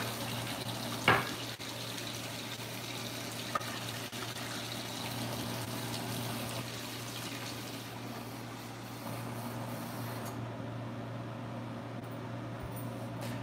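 Hot water runs steadily from a kitchen tap into a sink while sausages and mash are being made, a continuous close rushing flow after a brief knock near the start, with no talking.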